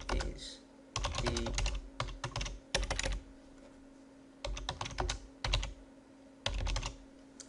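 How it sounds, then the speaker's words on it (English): Someone types on a computer keyboard in quick close bursts of clicking keystrokes, separated by short pauses, over a faint steady hum. "I'm going to type in this"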